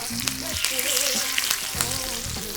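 Garlic halves, bay leaf and rosemary fry in a hot pan with a steady, close sizzle, while clear tonal bands suggest background music running underneath throughout.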